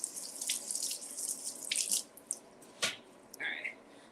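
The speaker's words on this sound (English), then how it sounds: "So let me just rinse this off." Vegetables rinsed under a running kitchen tap, with intermittent splashing and water bursts close by, quiet overall with short drips and pauses.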